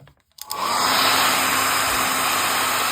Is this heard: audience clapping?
no